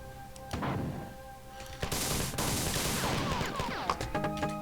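Grenade explosions and weapon fire in the video game Marathon: a sharp blast followed by a sustained roar of gunfire and crashing impacts, loud and continuous over the second half.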